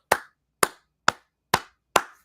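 One person claps five times at a slow, steady pace, each sharp, close clap ringing briefly before a clear gap of silence, with no other sound around them.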